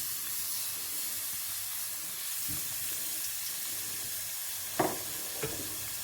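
Onions browning in refined oil in a pan, with a steady close sizzle and hiss throughout and a couple of sharp stirring clinks near the end.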